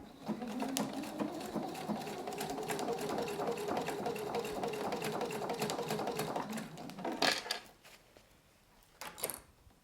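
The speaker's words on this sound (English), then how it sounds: "I can now remove that first clip and I can sew my seam" Sewing machine running steadily as it stitches a seam through a quilted travel bag, a close, continuous mechanical whir lasting several seconds before it stops, followed by brief handling clicks.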